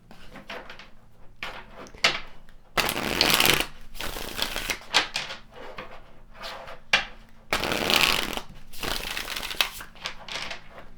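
Tarot cards shuffled by hand in repeated bursts of riffling and flapping, close up, separated by quieter gaps of light handling, with no speech.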